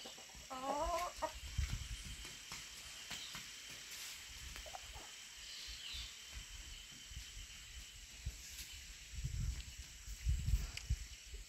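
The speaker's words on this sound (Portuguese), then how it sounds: "Não deixa a galinha quieta, rapaz." Chicken and farm poultry in a backyard, with a short run of clucks near the start over a steady background hum, then quieter scattered rustling and low thumps throughout.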